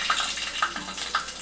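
Half a spoon of mustard seeds fries in hot oil in a pan, a dense sizzling crackle with scattered sharper pops, close and fairly loud throughout.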